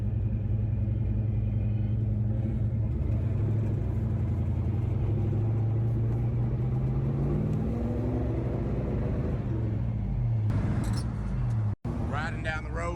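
An old Chevy car drives along a Tennessee country road, a steady low engine rumble with road noise throughout and a pitch rising as it speeds up, then a sharp break and brief higher sounds near the end.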